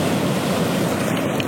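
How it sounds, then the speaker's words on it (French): Ocean waves break on rocks on a rugged coastline near a lighthouse, a continuous loud roar of surf and spray with wind buffeting the microphone. "J'ai le temps de voir une vague arriver."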